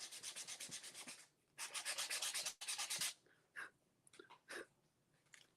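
A panel edge is roughed up by hand with 60 grit sandpaper in quick, rhythmic back-and-forth scrubbing strokes, two close bursts of steady rubbing followed by a few slower, scattered scrapes.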